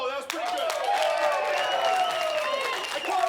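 Wrestling crowd at a Dojo Pro show cheering and applauding, a dense sustained roar of clapping and shouting with rising and falling vocal tones, fairly loud and continuous.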